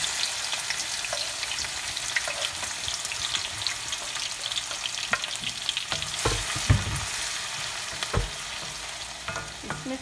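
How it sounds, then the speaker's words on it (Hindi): Chopped medium onion sizzles and crackles steadily in about 200 grams of hot oil for a qeema dish, with occasional louder pops and stirring scrapes close by. "इसमें प्याज को आपने सोते करना है।"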